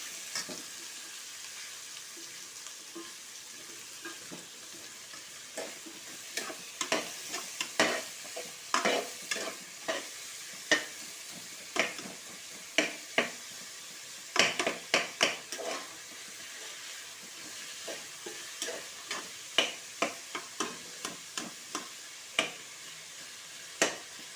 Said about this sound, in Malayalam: ഉള്ളി നന്നായി വഴഞ്ഞു വരാൻ വേണ്ടിയിട്ട് ലേശം ഉപ്പിടുക.